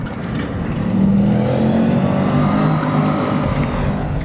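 Chevy SS race car on a dirt track, its engine roaring loud and close with steady rising revs that hold strong throughout, no talk over it.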